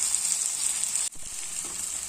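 Small potatoes for aloo dum fry in a pan with a constant bright close sizzle, briefly interrupted midway by a short dip before the hiss resumes with light stirring, no voices.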